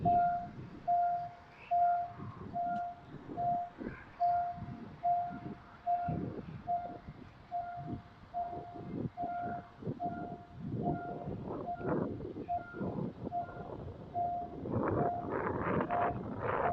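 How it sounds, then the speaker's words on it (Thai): A train horn sounds in a steady series of short repeated tones as train 418 reaches a level crossing on six-lane Mittraphap Road, rumbling rail noise and wind building toward the end. "ตรงที่รถไฟกำลัง เคลื่อนถึงพอดีนะครับ"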